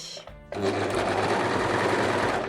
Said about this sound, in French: Je surfile ensemble.